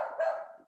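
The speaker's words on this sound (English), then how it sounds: "please forgive the dog barking" A dog barks once, a short, fairly close woof that trails off into a brief whine, heard on its own without talk.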